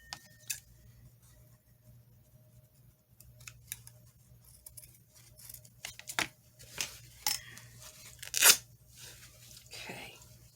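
Scissors snip through fabric while cutting pieces for fabric clusters, giving scattered sharp clicks and crunches, including one louder cut near the end, over a low steady hum and a quiet room.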